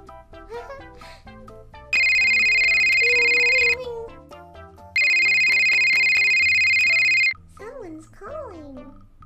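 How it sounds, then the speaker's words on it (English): A telephone rings in two long, loud electronic bursts separated by a short gap, with music and voices talking around and between the rings. "Answer the damn phone."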